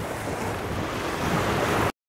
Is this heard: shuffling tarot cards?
no